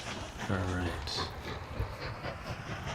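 Train running in the rail-building video game Mashinky, a low rumble and rhythmic clatter with a brief hiss, mostly steady, as someone talks over it.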